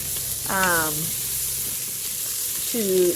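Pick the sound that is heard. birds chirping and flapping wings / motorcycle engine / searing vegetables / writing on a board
searing vegetables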